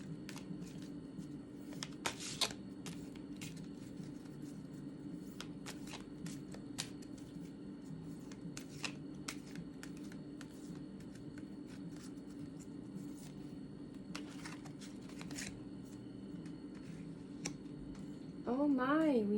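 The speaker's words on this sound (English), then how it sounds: "I will also pull one card from my Higher Intuitions Oracle cards" Oracle cards are shuffled in a run of soft, quick riffling clicks and slaps close by, spread through the clip under a low steady hum, and a voice comes in briefly at the end.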